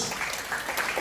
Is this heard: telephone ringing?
no